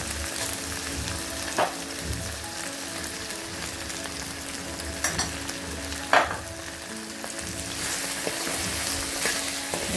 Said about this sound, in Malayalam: അതിൽ കുറച്ച് ഉപ്പും കൂടി ചേർത്തിട്ട് ഒന്ന് വഴറ്റാട്ടോ